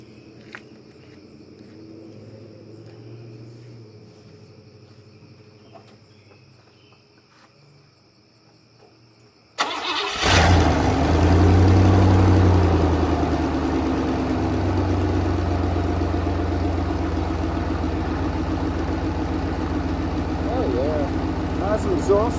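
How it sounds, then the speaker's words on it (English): A 1984 Cadillac Fleetwood with a leaky, unclamped exhaust cranks and starts, then settles into a loud, rough, rumbling idle close by. Quiet cricket chirps come before it. "Nice exhaust leaks, it ain't bad."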